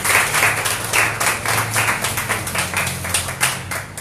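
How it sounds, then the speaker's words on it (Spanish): A church congregation claps together in a steady, fairly loud burst of applause that carries on evenly through the moment. "Usted debería estar dando un aplauso ya al Señor por eso"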